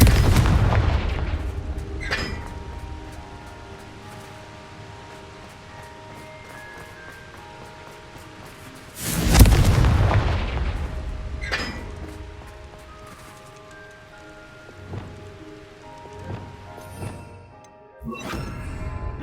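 Confringo fire spell blasts in the Hogwarts Legacy video game: booming impacts, one loud blast at mid-clip among fainter thuds, over a low rumbling game background.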